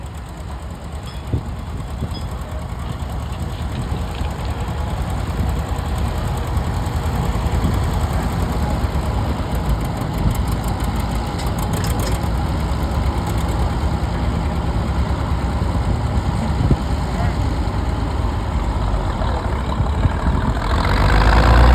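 A pulling tractor's engine idles at a tractor pull, a steady low rumble with a constant drone that holds loud and close for about twenty seconds, growing slightly louder near the end.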